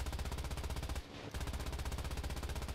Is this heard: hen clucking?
no